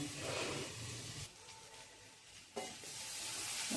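Sprouted moth beans (matki) sizzle and fry in a pan while being stirred, a steady close hiss that dips briefly midway, then swells again with a scrape of stirring.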